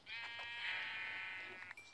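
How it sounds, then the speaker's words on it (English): Sheep bleating in a Minecraft-style survival video game, a single drawn-out bleat lasting nearly two seconds, clear and fairly close with no talk over it. "Oh, sheep, nice."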